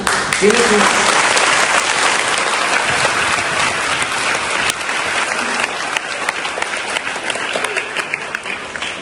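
A crowd at a government official's public event claps loudly and steadily, the applause dense at first and then thinning into scattered claps. Voices can be heard underneath.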